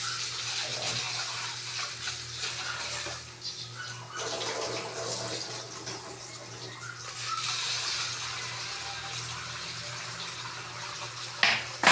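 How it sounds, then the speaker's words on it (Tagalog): Glutinous rice being rinsed in water, a steady wet swishing and sloshing that runs continuously and close by, with a brief clatter near the end. "Basa na natin yung malagkit natin, mga 2 hugas o 3 para malinis sa maigi."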